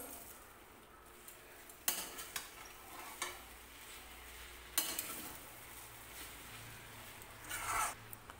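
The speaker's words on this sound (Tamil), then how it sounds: "ரவா உப்புமாவை நல்லா கலந்து விட்டுடலாம்." A spoon stirs veg rava upma in a pan over a slow flame, with several distinct scraping strokes over a faint, steady sizzle.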